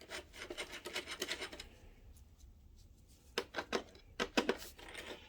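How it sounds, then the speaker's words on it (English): Small screws being backed out of the DVI and RS-232 ports on a Mitsubishi HC2000 DLP projector during color wheel repair, heard as faint scratchy rasping that comes in short bursts and then in a tighter cluster of quick scrapes. "let's pop out two screws from the DVI, then we'll get two screws in the RS-232 here"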